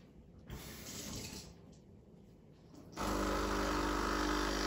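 The steam wand on a Breville Barista Express BES870 is purged after frothing milk. A loud, steady rushing hiss cuts in abruptly partway through and continues to the end, following softer gurgling noise.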